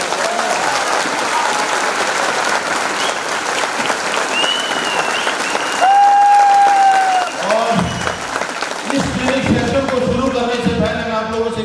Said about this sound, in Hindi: एक बार जोरदार ताली आप सभी लोगों को